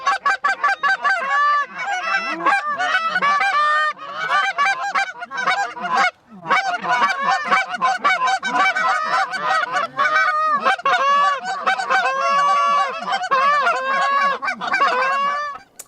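A large flock of geese honks loudly and continuously in an open field, a dense overlapping chorus of many birds close by with brief dips in the calling.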